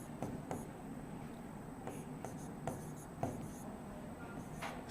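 Pen or pencil writing out chemistry notes on paper, soft scratchy strokes with a few sharper taps, steady and close but quiet, with no voices.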